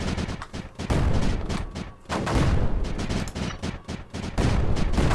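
Small cannons in the game Creeper World 4 fire in rapid, dense bursts, a continuous loud crackling volley with short pauses between clusters, no voices heard.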